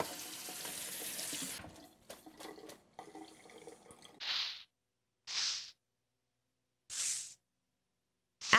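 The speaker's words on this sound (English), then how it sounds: "drain the broccoli and then immediately put it under cold running water" Running tap water pours over freshly cooked broccoli being drained and rinsed cold in a kitchen sink, a steady rushing stream that stops, then a few short separate splashes of water follow.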